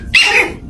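A puppy lets out one short, loud bark, close and clear with no talking around it.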